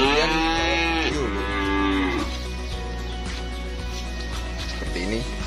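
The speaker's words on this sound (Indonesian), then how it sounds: "Seperti ini sapi-sapinya." Calves and cattle moo loudly and close by, one long drawn-out call followed by further lowing, with steady farmyard noise underneath.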